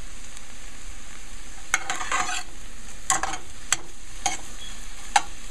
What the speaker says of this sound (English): So I'll be ready to throw them in as soon as the saltfish fry down